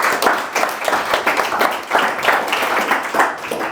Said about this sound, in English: Everyone give a round of applause for Peter Boncz.